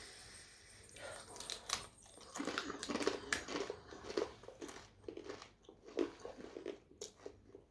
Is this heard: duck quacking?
no